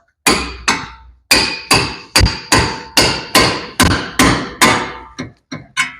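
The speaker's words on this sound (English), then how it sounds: "now I'm going to just blast the end of this with a hammer" A series of about thirteen hard metallic hammer blows on a tie rod end of a Nissan 200SX S12 Turbo, loud and close, each ringing briefly. The strikes land at a steady pace, then quicken at the end.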